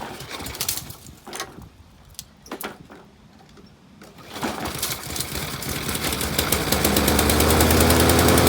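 Old free lawn mower engine, left out in the rain, is pulled and catches, building into a loud, continuous running drone with rattling vibration; birds call faintly before it starts.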